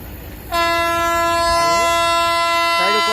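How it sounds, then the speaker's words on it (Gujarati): A train horn blares loudly and steadily for several seconds as an electric freight train approaches at full speed close by, its rumble underneath. "આ તમે જોઈ શકો તો માલ ગાડી આવે છે ઇલેક્ટ્રિક છે ફૂલ સ્પીડ"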